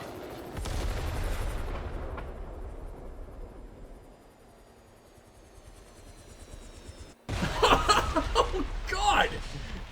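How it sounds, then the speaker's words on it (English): In the video game Chernobylite, an explosion and gunfire-like bursts go off: a long rumbling blast fades out, then a sudden loud crackling burst follows, with a voice and chuckling underneath. "That was a very, very ugly explosion"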